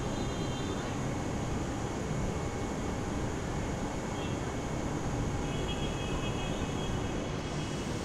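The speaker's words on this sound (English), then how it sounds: "How beautiful it is to see an airplane roll down the runway" An airplane in a flight simulator game rolls down the runway for takeoff, its engines a steady, loud, even roar with a faint whine held throughout and no talk.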